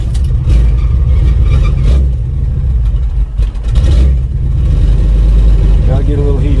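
Turbocharged C20 Chevy truck engine warming up cold, a loud, steady near rumble with slight revving swells that dip and recover, running alone without talk.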